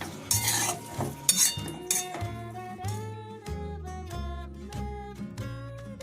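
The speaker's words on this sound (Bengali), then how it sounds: "এবারে নাড়াচাড়া করতে করতে এই গুড়টা গলে যাবে নারকেলের সাথে" A spoon stirs jaggery and coconut with water in a metal pan, scraping and clinking in a steady rhythm close by, with a little sizzling underneath.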